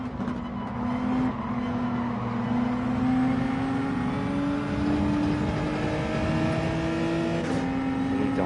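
Race car engines in a video game race, a near continuous whining drone with rising and falling pitch as the car accelerates and shifts, other cars faintly passing, no talking.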